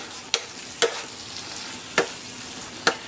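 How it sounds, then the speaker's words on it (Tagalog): A pan of vegetables with sponge gourd (patola), sautéed with shrimp paste and fish, gives a constant close sizzle broken by four sharp scrapes from stirring at uneven intervals, with no voices. "Lagyan na natin yung ating patola."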